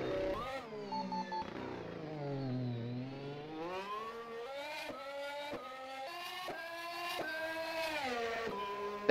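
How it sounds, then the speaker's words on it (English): Honda racing engine of a Formula-style development car in the rFactor 2 racing game, heard from an external view: a loud, continuous high-revving whine that rises and falls through gear changes, with no talk over it. "That is a proper Honda engine from the external point of view."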